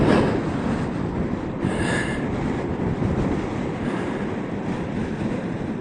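Steady, broadband rushing roar of strong wind on a mountain top along the Top of the World Highway, buffeting the microphone, constant and loud throughout with no voices.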